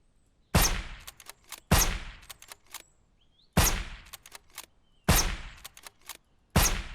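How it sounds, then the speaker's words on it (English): Sniper rifle gunfire in the zombie survival video game SurrounDead: five loud, sharp single shots at spaced intervals, each with a decaying tail and brief mechanical clicks of bolt cycling between them. "Let's do some sniping."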